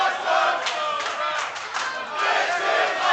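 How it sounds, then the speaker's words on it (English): A wrestling match crowd roars in one loud, dense, continuous wall of cheering and yelling that swells and dips slightly. No single voice stands out. "And listen to that crowd."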